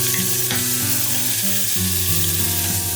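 Ground green chilli, ginger and garlic paste sautéing in a pan for Satara-style urad dal curry, giving a steady close sizzle and fry with faint stirring throughout, no voices.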